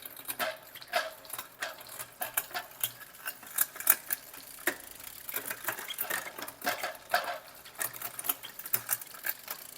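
A road bike's derailleur being shifted during gear adjustment gives a rapid run of light, dry mechanical ticks and clicks, close and steady for several seconds with no voice.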